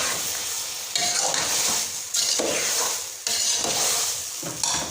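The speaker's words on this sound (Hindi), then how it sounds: "तो मिक्स कर लेंगे अच्छे तरीके से।" Chopped bottle gourd and ridge gourd are stirred into masala in a pan, with a spoon scraping in repeated loud strokes roughly every second over a steady sizzle.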